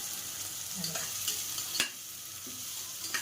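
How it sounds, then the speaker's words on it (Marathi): Onion and garlic fry in a pan for dal khichdi, giving a quiet, even sizzle with a few soft stirring taps and one sharper knock, heard up close at low volume and without speech. "असा कांदा आपला छान छानपैकी लाल भाजून द्यायचा"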